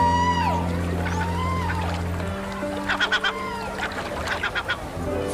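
A seagull calls in a series of short, bright squawks that come in clustered bursts, heard over a steady sustained musical tone in a coastal setting.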